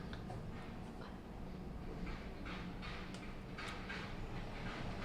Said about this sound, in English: Please enjoy the ambience of Queen's Village